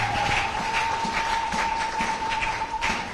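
A church congregation applauds in a dense, steady wash of clapping that fills the room, with a thin sustained tone running underneath.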